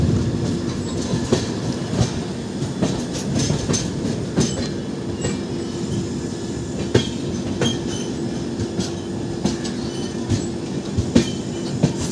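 A train rolls in toward a station on a foggy Kerala route, steady wheel clatter and rumble with repeated clicks over rail joints and occasional squeals, loud and continuous throughout.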